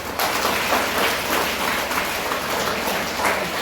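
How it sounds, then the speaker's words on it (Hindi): A school audience claps loudly in a sustained, dense patter of many hands, steady and fairly near, starting abruptly and holding at full strength. "जोरदार ताली होनी चाहिए"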